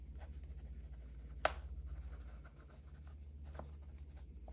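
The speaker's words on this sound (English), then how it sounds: "I'm gonna write that down as well." Someone writes by hand, soft scratching and tapping strokes heard faintly over a low steady hum, with a sharper tap now and then.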